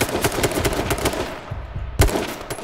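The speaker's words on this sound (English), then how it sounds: "Someone else is shooting." Rapid automatic gunfire in the battle royale game H1Z1, loud bursts of sharp shots in quick succession, a brief lull, then another heavy shot near the end.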